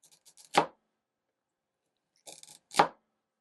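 A hand-forged boning knife slicing through a carrot, two crisp crunching cuts about two seconds apart, each preceded by small scraping taps, close and clear against silence.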